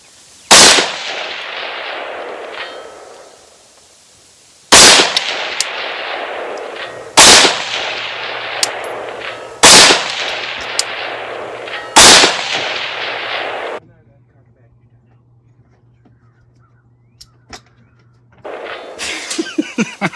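Five loud, sharp rifle reports fired at a 500-yard target ring out several seconds apart, each followed by a long rolling echo across open ground, with faint handling clicks near the end.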